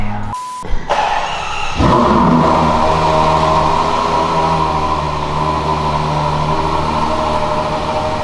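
After a brief silence, a Ferrari 12Cilindri V12 engine fires up and settles into a loud, deep, rumbling idle with a steady harmonic drone.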